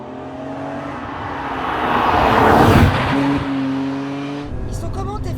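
A BMW M3 E46 six-cylinder engine accelerates hard, roaring louder as revs climb to a peak before easing off, with a voice briefly heard at the end.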